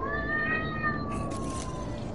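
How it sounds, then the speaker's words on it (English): A cat gives a single long, drawn-out meow that falls in pitch, close and clear over a steady low background hum. "Which one's the cat that goes?"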